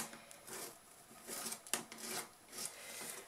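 A marker or chalk tracing angle lines on fabric for a small sewn basket, soft scratchy rubbing strokes in short irregular passes, close and quiet, with no talk.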